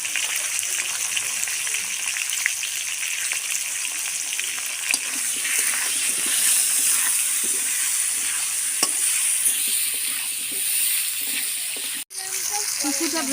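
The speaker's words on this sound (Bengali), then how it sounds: "এর সঙ্গে এই টমেটোগুলো আমি দিয়ে দেবো, ভালো করে ভেজে নেব" Tomatoes frying in a pan with turmeric and salt for a potato, drumstick and rohu fish curry, giving a steady, close hiss and sizzle that holds throughout, with faint stirring scrapes and a brief dropout near the end.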